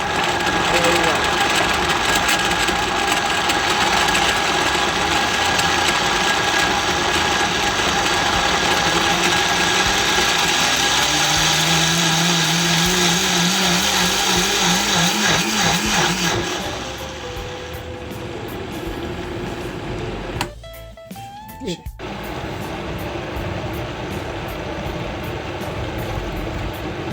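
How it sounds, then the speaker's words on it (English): A kitchen blender whirs loudly and steadily, grinding coconut into coconut milk; the motor drone dominates for about sixteen seconds, then drops away to quieter room noise with a brief clatter. "I'm gonna blend my coconut. A little bit noisy."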